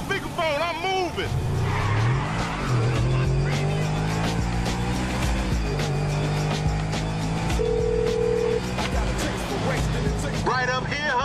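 Car driven in Grand Theft Auto V: a steady engine drone with shifting pitch runs loudly throughout, mixed with game music and tonal effects, with brief tire-squeal hints.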